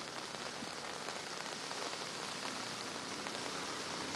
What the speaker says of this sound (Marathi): नक्कीच 3 तासापासून पुण्यामध्ये जोरदार पाऊस सुरू आहे